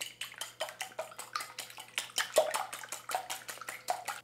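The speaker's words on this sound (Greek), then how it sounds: "Ανακατεύουμε." Ingredients for a quick Greek cheese pie stirred in a bowl, rapid clinking and scraping strokes in a steady rhythm close by, with no voices.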